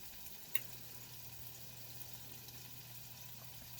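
Meat fries and sizzles quietly in a pan beside eggs during breakfast cooking, a soft steady crackle with a faint low hum underneath and one brief click near the start.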